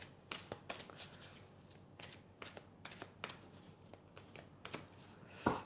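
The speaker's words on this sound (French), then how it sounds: "on va prendre une carte de l'archange Michael pour avoir un message" Archangel Michael oracle cards being handled and shuffled, a steady run of crisp close riffling flicks and soft slaps repeating in short irregular bursts, fairly quiet with no talking.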